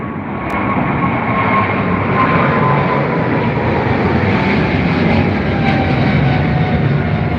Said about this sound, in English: Bloody hell, that's loud. An almost textbook takeoff.